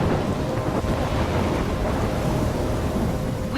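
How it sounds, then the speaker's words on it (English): Thunderstorm in the video game Life is Strange, a steady loud roar of rain and rumbling thunder with wind buffeting, continuous and close with no pauses. "I'm trapped in a storm?"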